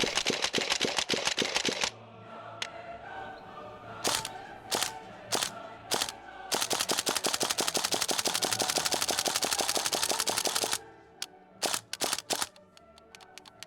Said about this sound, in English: It is a vibe that is enhanced by the raw sound of the bolt dragging over the hammer.